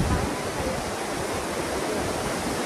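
Manthokha waterfall in Skardu, heard from close by as a loud, continuous broadband roar of falling water with no breaks, filling the whole moment without voices over it.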